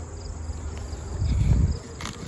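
Honey bees hum inside a fall hive as new workers emerge from brood cells, a close, continuous low buzzing that swells briefly in the middle, with faint rustling of the frame.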